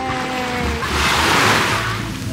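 Ocean waves wash in at a beach in Wakayama, Japan, a broad rushing surf that swells and recedes continuously at close range, with some wind noise and a faint voice early on.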